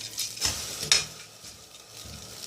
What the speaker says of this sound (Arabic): معلقه سمنه بلدي او معلقه زبده، وفي نفس الحله هنحطها